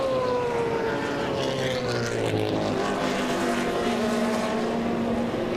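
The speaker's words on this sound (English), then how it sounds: "And the Mustang pulls away up the hill where it's got that torque advantage." A Mustang GTO-class race car accelerates uphill during a race, its engine a loud, sustained roar with a falling then steady pitch as it pulls away, heard alone without commentary.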